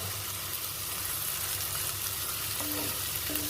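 Ginger garlic paste frying in a pan as it is stirred, a steady close sizzle throughout with a couple of faint scraping tones near the end, no talking.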